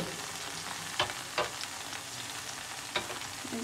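Chilli chicken frying in oil, a dense steady sizzle with a few sharp scraping stirs, close and moderately quiet.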